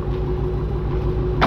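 A Harley-Davidson motorcycle engine idles close by with a steady low, lumpy rumble and rhythmic pulsing, and a brief brighter burst near the end.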